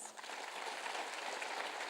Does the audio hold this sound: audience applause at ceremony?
yes